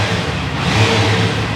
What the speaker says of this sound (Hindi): स्टॉक एग्जॉस्ट ही है तो बहुत प्यारी आवाज़ प्रोड्यूस कर रहा है